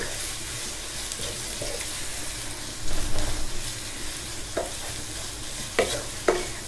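Onions fry in a pan for homemade bhindi pyaz sabzi, with a constant sizzle and occasional scraping stir strokes close by and no talking.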